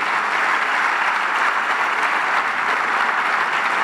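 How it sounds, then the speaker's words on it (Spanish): Audience applause at a carnival murga presentation, a dense, steady clapping from a large crowd that fills the whole stretch without pause. "Un aplauso este es para ustedes"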